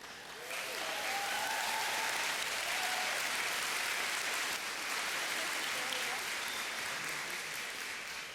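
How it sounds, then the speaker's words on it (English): Graduates and audience at a fall university convocation ceremony break into sustained applause, a dense wash of clapping that swells quickly and holds steady throughout, with faint voices mixed in. "everyone just clapped"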